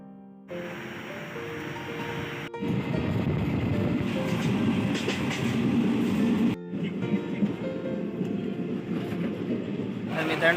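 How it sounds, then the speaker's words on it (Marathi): Interior rumble of a long-distance Indian passenger train, the Mangalore Express out of Mumbai CST, heard as a steady low roar of the moving carriage that drops out briefly twice, with some indistinct voices nearby. "CSTवरून 9:54ची ट्रेन पकडणार आहोत, मंगळूर एक्सप्रेस."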